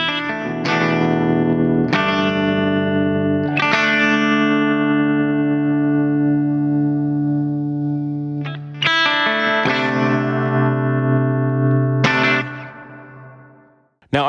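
A Kmise Tremolo guitar pedal with its hidden trim-pot feature engaged, processing electric guitar chords that ring out and sustain with a wavering, effected tone, several strums spaced across the passage before fading out.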